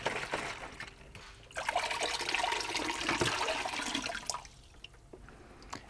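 Water rushing and gurgling through a kettle being rinsed out during descaling, poured in through the spout and running into a sink, with a sustained splashing flow that swells and then trickles off.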